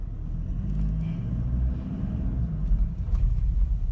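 A Toyota Fortuner engine gives a deep, continuous rumble at close range, with a slight swell in loudness toward the end.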